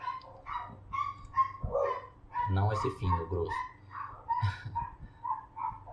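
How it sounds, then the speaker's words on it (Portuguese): A pet dog's barks and yips sound in a home near a computer desk, fairly close and repeated, while a person speaks over and between them. "Eu acho que esse é meu cachorro."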